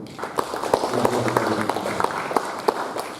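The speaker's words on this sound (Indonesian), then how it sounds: "Jadi tepuk tangan untuk" An audience applauds at a gathering with the Bali governor on press and information, a dense patter of clapping with a few sharp nearer claps standing out, steady and fairly loud throughout.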